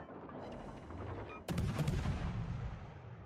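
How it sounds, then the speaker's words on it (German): Main battery naval gunfire in World of Warships Legends: a heavy, booming salvo erupts midway through a rumbling battle ambience, then the roar rolls on loud and dense. "schießen jetzt hier auch schon mal ein bisschen los in der Hoffnung, dass wir vielleicht einen Brand machen mit unserer Hauptbatterie"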